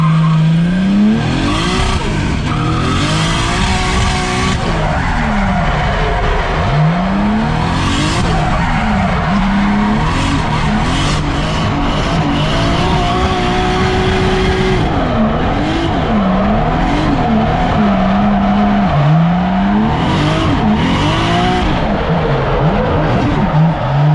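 A Nissan S13 with a swapped 2JZ engine drifts, its tires screeching in long continuous squeals while the engine revs rise and fall, loud and close throughout.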